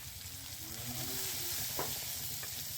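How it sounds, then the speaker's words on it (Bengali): Onions frying in hot oil, a continuous sizzle that swells slightly, with a couple of brief spatula scrapes near the end. "আবার সেই গরম করা তেলেতেই আমি পেঁয়াজ ভেজে নিলাম"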